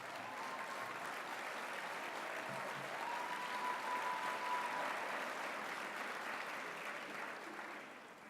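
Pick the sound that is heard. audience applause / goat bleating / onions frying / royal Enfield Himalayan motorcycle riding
audience applause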